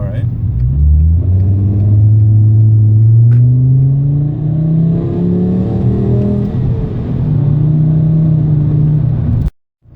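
A Mk5 Jetta's engine revs through its aftermarket exhaust, a loud, steady droning rumble with rising and falling tones for about nine seconds before cutting off abruptly.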